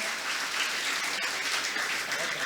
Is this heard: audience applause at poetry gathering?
yes